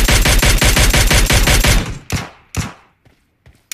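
Video game gunfire, a loud rapid burst of automatic shots in a steady rhythm that stops abruptly, followed by a few scattered single shots and quiet gaps.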